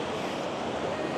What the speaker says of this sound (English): The sea is a little bit wavy, although it is not that windy.